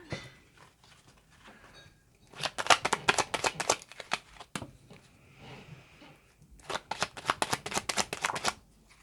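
A tarot deck is shuffled in two brisk bursts of riffling card flutter, close and crisp, separated by a short quiet pause and a single soft tap, with no talking.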